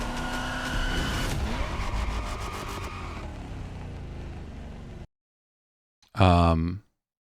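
Racing cars in The Crew Motorfest, a video game trailer: loud engine roar and tire skids over music for about five seconds, silence, then a short burst of sound.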